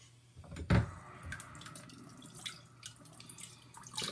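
Water splashes onto a Nakayama koppa whetstone with one sharp pour at the start, then trickles and drips softly nearby.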